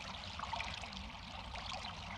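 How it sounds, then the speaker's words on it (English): Water flows and trickles steadily in a spring outdoors, a continuous soft gurgling stream that stays even throughout without breaks. "there's water flowing in the spring"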